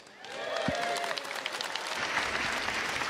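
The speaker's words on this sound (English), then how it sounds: "So let's give Sam a round of applause, please." An audience at CitizenCon 2954 claps enthusiastically, a dense, steady round of applause that swells quickly and carries on evenly.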